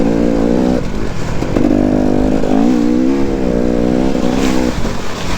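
Enduro motorcycle engine revving hard and continuously during a muddy enduro event, close and loud, the pitch rising and falling with throttle changes.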